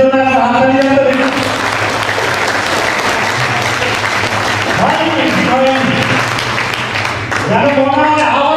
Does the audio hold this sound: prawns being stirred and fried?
no